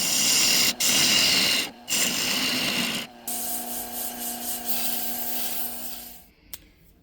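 Sandpaper hisses loudly against a yew wood yo-yo spinning on a woodturning lathe, broken by short pauses, then the lathe's steady hum carries on alone and fades to quiet.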